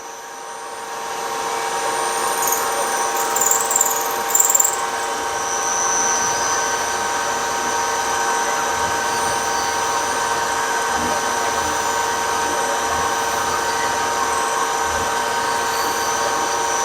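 A machine tool takes a light 0.2 mm cut while cutting steam ports, giving a loud, steady tonal whine and hum that holds evenly throughout with a few brief rattling bumps early on.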